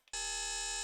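A steady Serum synth tone of two synced sine waves, with bright, buzzy harmonics, starts abruptly and holds at an even level, sustained and alone, unprocessed.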